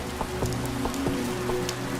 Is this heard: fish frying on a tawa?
no